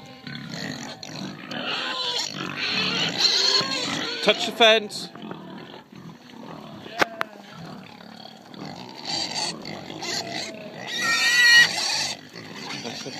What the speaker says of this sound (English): Then we got the baby pigs.